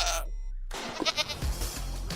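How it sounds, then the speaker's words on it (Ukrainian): A Minecraft goat bleats in a wavering, nasal cry after a brief silence, the video game animal sound loud and close, heard alone without any talk. "тепер у Майнкрафт є унікальні звуки кіз"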